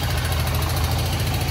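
Motorcycle engine idling steadily at close range, a continuous low rumble with a fast pulsing throb, heard alone with no voices, in hot weather in the Chaco region of Argentina.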